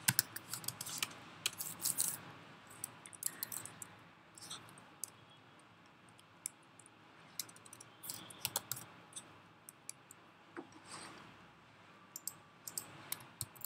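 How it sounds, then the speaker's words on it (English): Fast typing on a computer keyboard, a steady run of crisp, close key clicks with irregular bursts and brief pauses, heard alone without voices. "That's why I'm typing fastly."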